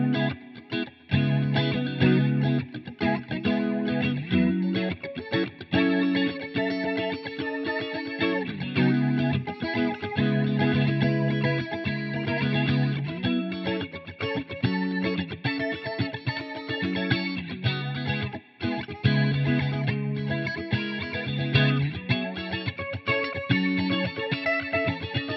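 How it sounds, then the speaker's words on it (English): A Junipero phaser pedal plays an intense, over-the-top phasing sweep blended with the clean guitar signal, a loud, continuous chordal passage with swirling, distorted-sounding texture and no talking. "perfect kind of blend between this very kind of intense and over the top phasing effect and your normal clean"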